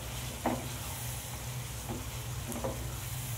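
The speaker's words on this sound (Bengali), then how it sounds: "দিয়ে ভালো করে চিকেনের সাথে মশলাটা আমি কষিয়ে নেব" Chicken sautéing in a pan with spices and Kashmiri chilli powder gives a steady, close sizzle, broken by a few soft stirring scrapes and no talk.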